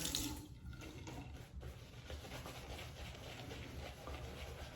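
Steady warm running water from a tap, a continuous close splashing hiss with no talking, during a wet shave.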